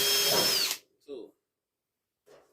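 A power drill whines loud and close for under a second while boring holes for rear window trim clips on a first-generation F-body, then stops, followed by two short spoken words.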